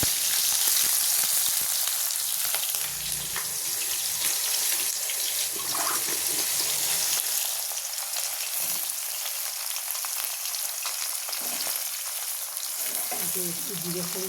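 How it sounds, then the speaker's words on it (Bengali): Onions frying in hot oil with cumin seeds, a steady close sizzle with crackle running through, plus a few clinks and stirring knocks and brief low voices near the end. "তেল জ্বলে গেছে, এবার কিছুটা পেঁয়াজ দিয়ে দেবো এর মধ্যে।"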